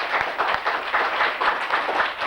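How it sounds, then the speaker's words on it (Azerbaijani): An audience applauds at an evening chemistry show, steady close clapping from many hands filling the room without a break. "Gəlin alqışlayan vətəndaşlar."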